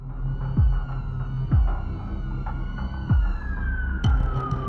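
Sirens of a US presidential convoy wail with repeated swooping tones, a steady cycle of falling sweeps over a sustained pitch, fairly loud and continuous.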